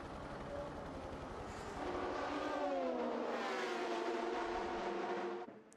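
Race cars at the 24 Hours of Le Mans 2018 roar past, their engine note rising and swelling through the middle before fading, heard faintly from a distance with no one talking.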